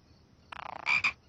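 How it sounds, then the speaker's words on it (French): A frog croaks in a quick rattling burst of pulses followed by two louder, drawn-out calls, close and clear against a quiet background. "Oh, c'était juste une grenouille."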